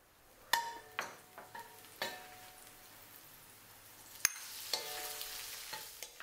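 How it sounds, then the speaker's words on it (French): Dried shrimp and tofu stir-fry in a wok with a soft, steady sizzle, broken by sharp clacks and scrapes of a utensil against the pan, close and fairly quiet. "Mélangeons durant 1 minute et mettons le tout sur un côté du wok."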